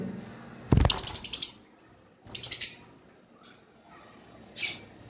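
Caged lovebirds, a blue-wing male and a green-wing female pair, give sharp shrill chirps in a few short bursts close by, with quiet gaps between the calls.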